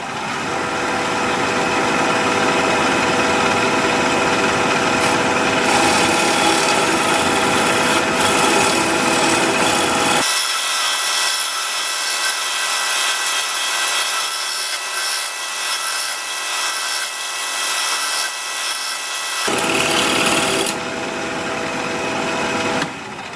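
A shear scrape on spinning curly maple on a wood lathe gives a loud continuous rasping hiss over the motor's hum, stopping for about ten seconds midway, leaving only the lathe running, then resuming.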